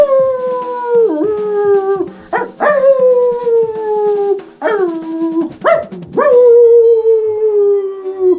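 A dog howls in long, sliding, mournful tones, several drawn-out howls one after another, each starting with a quick yip-like rise, loud and close.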